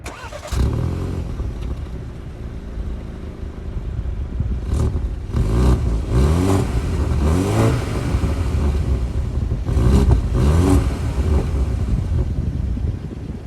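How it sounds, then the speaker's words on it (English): A 2023 BMW X3 30i xDrive engine builds revs in repeated rising pulls, its tone climbing through gears from inside the cabin, steady and moderately loud. "this engine is pretty smooth. It sounds pretty okay"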